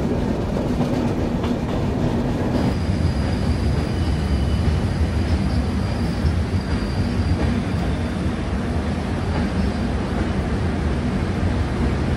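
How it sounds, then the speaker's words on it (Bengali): A steady, loud rumble of a moving train fills the scene, with rhythmic rattling of wheels and carriages and a faint high whine above it. "আমাদের ট্রেনটা এখন ঘুরছে"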